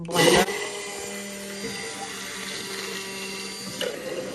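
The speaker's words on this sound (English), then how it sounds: "All right, I'm going in with my emulsion blender." A steady mechanical whir of an immersion blender mixing homemade mayonnaise, running continuously, opening with a loud burst of clatter and ending with another brief knock.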